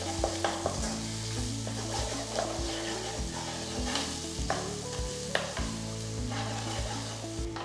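Masala for egg lababdar sautéing in an oily pan, a steady close sizzle and frying hiss with repeated spoon scrapes and stirring strokes throughout, no voices.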